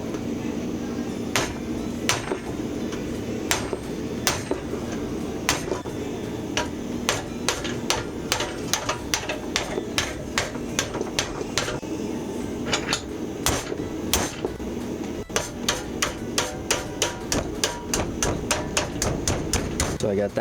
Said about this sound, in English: use a different hammer to pound on this end and just go along the edge that way